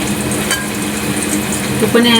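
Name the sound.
dhopa leaf vadi frying in oil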